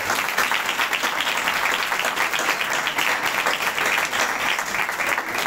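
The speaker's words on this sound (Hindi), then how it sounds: "आइए यीशु के लिए जोरदार तालियां बजाएं।" Church congregation applauding loudly at a Christmas service, a steady dense wash of many hands clapping that holds at full strength throughout, with no talk over it.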